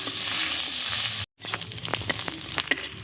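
Ginger-garlic paste sizzling with onions in a hot pan, a steady loud fry that briefly cuts out, then returns with scraping and tapping from a spoon stirring the mixture.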